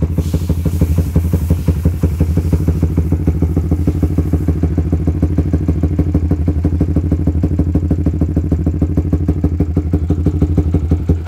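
A Suzuki GSX R150 motorcycle, a 150cc bike fitted with a CLD Racing Monster Race exhaust, idles steadily with a deep, rapid, loud burble and crackling pulses, close up and continuous without talk.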